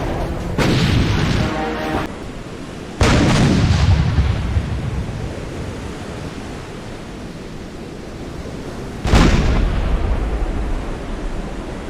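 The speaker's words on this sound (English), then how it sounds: "the German battleship Bismarck and heavy cruiser Prinz Eugen, exchange fire with the pride of the British Navy, HMS Hood and Prince of Wales." Heavy naval gunfire as the German battleship Bismarck and heavy cruiser Prinz Eugen exchange salvos with HMS Hood and Prince of Wales: three loud booming blasts, each with a long rumbling decay, set against a constant sea-like roar.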